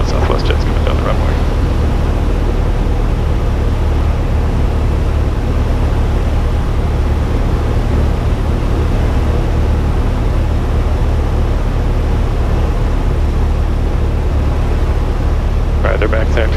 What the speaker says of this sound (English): Southwest jet's coming down the runway.